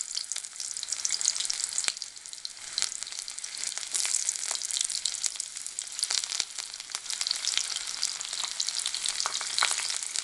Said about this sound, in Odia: ଏବେ ଆମେ କ'ଣ କରିବା, ସେଇଥିରେ ଆମେ ନେଇଥିବା କାଟିଥିବା ପିଆଜ ସବୁ ପକେଇବା।